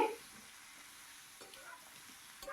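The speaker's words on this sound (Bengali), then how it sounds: "লাল ডাটার শাক আলু এবার পেঁয়াজের সাথে সুন্দর করে ওপর নিচ নাড়াচাড়া করে নিচ্ছি" Red amaranth greens and potatoes are being stir-fried with onion, turned over in the pan with a soft, steady sizzle and a few faint scraping touches, quiet and close with no talking.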